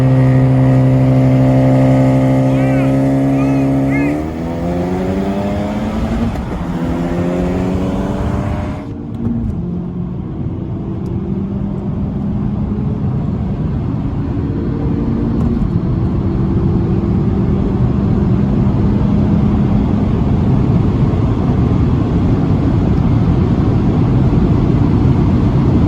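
A tuned Honda Civic Type R with a high-flow air filter racing a Honda Accord, its engine loud and close as it revs hard through rising gears with shift breaks, then holds a sustained roar.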